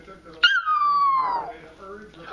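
A Papillon dog lets out a long, close, descending howl that starts abruptly and trails off after about a second, followed by a fainter whine.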